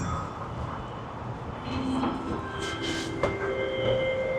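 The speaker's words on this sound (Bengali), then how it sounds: "আমাদের ট্রেন চলে আসছে উপরে।" Kuala Lumpur metro train arriving at an elevated platform, a steady rumble of wheels and motors with brief squeals and a sharp click, building slightly in loudness as it pulls in close by, with no talking.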